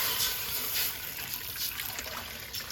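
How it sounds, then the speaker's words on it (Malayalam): A small amount of water is poured into a pot during home cooking, making a steady, close trickling splash that runs for about three seconds with no talking. "കുറച്ച് വെള്ളം ഒഴിച്ചു."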